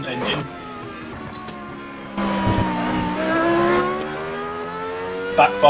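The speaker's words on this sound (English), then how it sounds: "turbo sound engine." Turbocharged race car engine in the Automobilista racing game, rising and holding a revving drone with shifting pitch and short bursts, close and loud.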